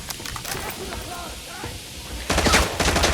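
AKM rifle fire in the shooter game Arena Breakout, scattered shots early under a man's excited speech, then a loud rapid burst of automatic fire near the end.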